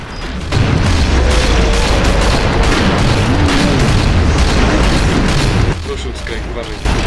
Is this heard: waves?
no